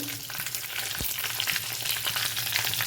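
Fenugreek seeds fry in hot oil for sambar, giving a steady, close crackling sizzle with a few small pops throughout.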